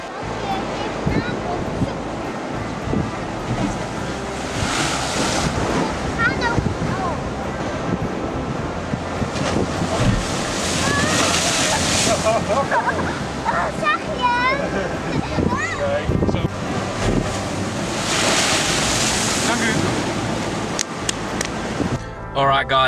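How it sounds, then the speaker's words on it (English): Waves surge in and splash up through the Bicheno blowhole on the Tasmanian coast on a warm day, a continuous roaring wash with repeated bursts and heavy wind noise on the microphone, while a person talks over it throughout. "So as you saw the waves coming in and it was splashing up, so that's the blowhole at Bishano."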